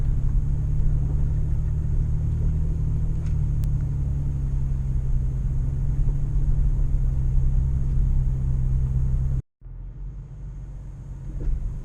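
Steady low engine rumble of a Toyota FJ and 4Runner driving on a mild trail at Peter's Mill, still in two-wheel drive, continuous and close, with a brief dropout near the end.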